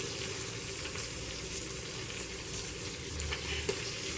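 Mudskipper fish frying over a low flame with turmeric and salt, giving a steady, close, even sizzle throughout with a couple of faint clinks near the end and no talking.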